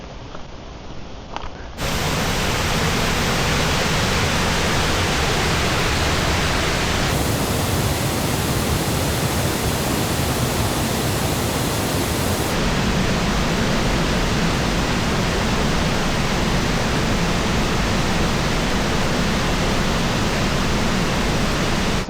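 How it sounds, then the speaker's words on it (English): Sgwd Gwladys, the Lower Gushing Falls in the Brecon Beacons, roars as a steady, dense wash of falling water, loud and unbroken after a brief quieter start, with no voices. "So behind me is waterfall number 7, Sgwd Gwladys, Lower Gushing Falls"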